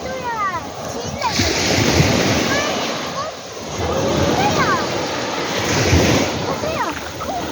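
Waves splash and surge onto an ocean shore in repeated loud swells, with wind noise across the microphone and people talking over the surf.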